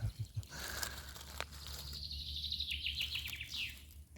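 Birds sing and chirp in a summer forest during mushroom picking, several high whistling calls and trills rising and falling close by, with soft rustling and faint low rumble underneath and no talking.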